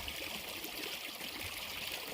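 A mountain stream in the Three Sisters Wilderness along the Pacific Crest Trail runs with a steady, close trickling and babbling of water, unbroken throughout.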